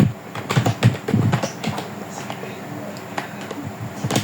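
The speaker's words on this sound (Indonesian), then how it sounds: "Kita ketik ipconfig" Keys clacking on a computer keyboard as a network command to flush the DNS cache is entered, a quick run of close, fairly loud taps at the start and then scattered lighter keystrokes, with speech present in the background.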